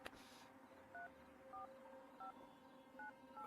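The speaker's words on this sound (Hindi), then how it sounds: "यार तू फोन लगाएगा ठीक है प्लीज।" A telephone keypad sounds a series of short, evenly spaced DTMF dialing beeps, five tones in quick succession, quiet and clean against a faint background hiss.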